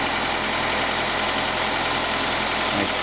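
A car engine idles steadily with a freshly repaired, quiet exhaust, giving a low even hum and light vibration that runs unbroken and close by.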